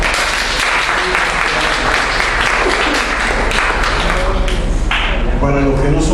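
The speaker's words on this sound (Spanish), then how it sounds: "vamos a darle un fuerte aplauso a Leila" An audience gives a sustained, loud round of applause for a guest poet at a poetry interview event, dense continuous clapping close by with scattered louder claps and some voices mixed in.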